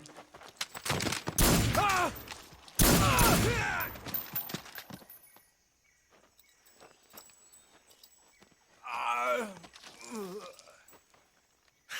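Gunfire in Metal Gear Solid 3: Snake Eater: two loud, rapid bursts of shots close together early on, followed by quieter rustling and another short cluster of shots, with no voices.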